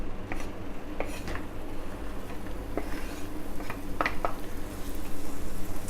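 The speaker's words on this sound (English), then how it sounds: "And put the onions in." Onions fry in olive oil in a pan on a gas stove, giving a steady low sizzle broken by a few light clinks and scrapes of a utensil against the pan.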